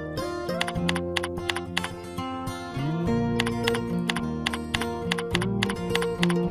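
Someone types a filter name on a computer keyboard in EPLAN software, quick clusters of sharp key clicks under steady background music.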